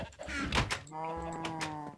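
Minecraft sheep bleating, two wavering nasal bleats in close succession with a soft thunk between them, fairly near and clear.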